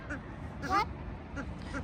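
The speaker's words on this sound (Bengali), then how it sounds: "ডাকাডাকি করতেছে আর কি এটা হচ্ছে পুরুষ হাঁস ও ডেকে ডেকে অন্য নারী হাঁসদের আকর্ষণ কর ট্রাই করতেছে" A male duck in a Moscow park gives a single loud nasal call near the middle, with fainter calls around it over steady outdoor background noise.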